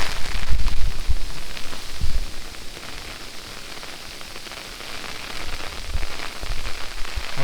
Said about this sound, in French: Ah ouais, c'est vraiment de la grêle.